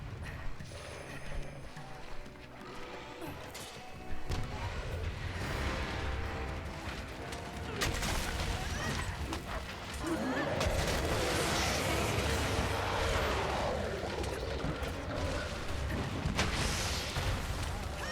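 Bombs and explosive barrels set off against a large monster in the video game Monster Hunter Rise: Sunbreak, giving repeated bursts and rattling impacts amid game clatter and music over about eighteen seconds, moderately loud.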